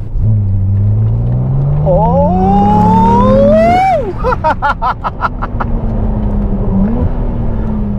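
A Ferrari 296 GTS hybrid sports car's roaring engine climbs steeply in pitch as it accelerates hard, then rapid gear-shift pops and a steady high-speed drone follow, loud and close.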